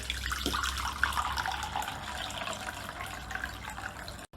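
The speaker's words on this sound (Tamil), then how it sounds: "பானி பண்ணதுக்காக 3/4 லிட்டர் தண்ணி எடுத்துருக்கேன்." Water pours steadily into a vessel while preparing pani for pani puri, three-quarters of a litre in all, a continuous close splashing trickle with no one talking.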